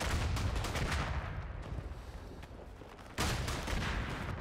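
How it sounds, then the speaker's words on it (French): Artillery fire rumbles in a Verdun battle, a dense, heavy barrage of booms and gunfire that eases mid-way and then surges loudly again, with no talking. "Je vais essayer de faire un bon tir d'artillerie."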